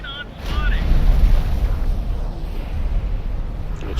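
Heavy torpedo hits explode against a carrier in the space strategy game Fleet Operations, with deep rumbling booms rolling through the low end and swelling then sustaining, alongside a brief whistling synthetic tone near the start.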